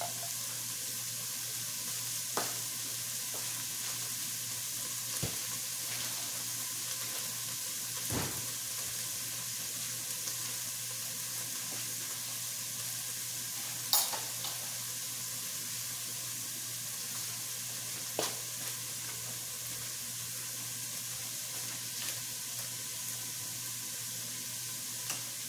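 Ground beef and onion sizzle and fry in a pan while being stirred, a steady low crackle with a few sharp clinks and scrapes from the utensil at irregular moments, and no voices.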